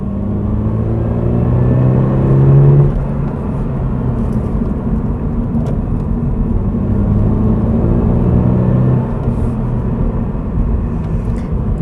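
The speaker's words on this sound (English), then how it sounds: "There's a lot of road noise from these tires." Tire roar inside a 2022 Subaru BRZ on the road: a loud, steady low rumble and drone that fills the cabin throughout, with slight swells in intensity.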